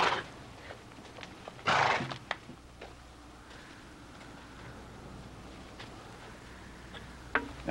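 A horse gives a loud whinny, and several hoof clops and scrapes sound nearby against a quiet background.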